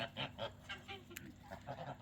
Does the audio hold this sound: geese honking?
yes